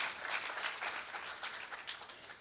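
Conference audience at a hacker gathering applauding a legal team: a faint, distant wash of clapping that stays fairly even for a couple of seconds before easing slightly.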